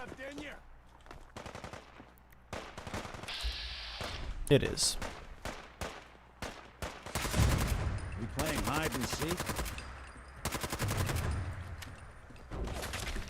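Automatic weapons fire in Fallout 4, loud bursts and single gunshots cracking over nearly thirteen seconds, with a voice talking between the volleys.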